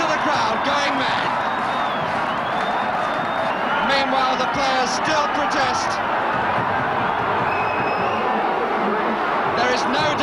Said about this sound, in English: Listen to the crowd going mad.